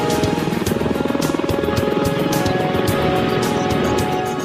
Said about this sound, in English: a Sea Sprite anti-submarine helicopter takes off from an aircraft carrier